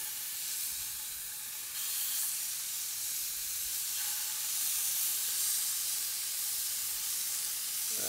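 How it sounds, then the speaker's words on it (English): Thick scallops sear in a very hot pan, giving a steady, even sizzle and hiss that carries on with no break, fairly soft and close. "the scallops go in. The pan's still sizzling hot"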